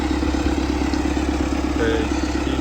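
A used 2011 MTZ 892 turbo tractor with about 65,380 engine hours runs at a steady idle. Its close, rumbling diesel drone carries a light mechanical clatter.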